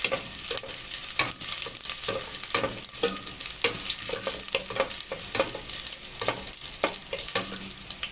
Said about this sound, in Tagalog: So guys, mag-start na akong mag-gisa.